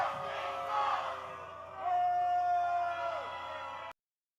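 A wrestling crowd at an OVW Rise live event chants in unison, a dense wash of many voices with whooping and howling swells, loud and steady before cutting off abruptly.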